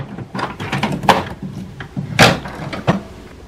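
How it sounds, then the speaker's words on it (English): Front door of an HP Smart Tank printer swinging shut after the ink tanks are filled, a few close plastic clicks and thumps with one sharper snap near the middle, no voices. "Close the front door."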